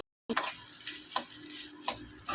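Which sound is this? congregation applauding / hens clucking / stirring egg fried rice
stirring egg fried rice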